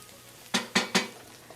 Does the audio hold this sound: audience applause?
no